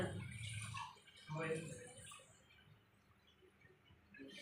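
Water pours into a pan of chicken curry masala, a short gurgling splash up close, with someone speaking over it before it fades to quiet bubbling.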